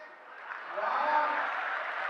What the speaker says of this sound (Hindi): तालियां थोड़ी है